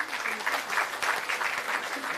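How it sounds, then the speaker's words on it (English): An audience at an engineering college convocation ceremony claps for doctoral graduates, a brief steady round of applause with a voice faintly underneath. "round of applause for them"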